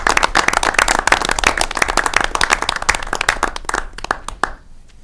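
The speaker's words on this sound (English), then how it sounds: "let's give Helen a round of applause" A small group claps for Helen at a media commission board meeting, close, crisp individual handclaps in a steady round that thins out and fades over about five seconds.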